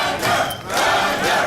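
A crowd at the 2010 World Series of Poker chants in unison to serenade a poker player, a rhythmic swell of many voices, loud and roomy, with no other speech.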